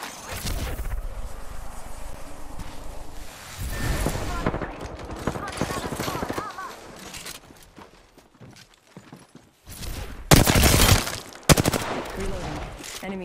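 Gunfire from an online multiplayer shooter match, with bursts of shots and impacts rising loudly around the middle and end amid game effects, while players talk over it.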